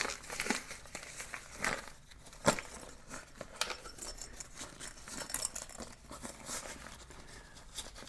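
Mesh front pouch being pulled right side out through its open zipper, producing close crinkling and rustling fabric noises in irregular bursts with occasional sharper crackles and faint clinks.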